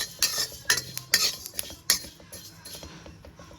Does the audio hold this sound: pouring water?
no